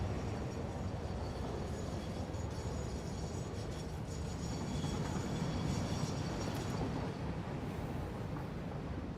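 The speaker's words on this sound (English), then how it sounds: "there's a little bit of train congestion over here" Trains rolling along congested rail lines in a factory-building video game, a steady low rumble with a dense rail-car drone filling the whole stretch and no talk over it.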